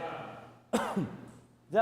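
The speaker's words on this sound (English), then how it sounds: "Now I'm coughing." A short, harsh cough bursts out after a brief stretch of quiet voice, followed by a lower throaty tail, close to the mic.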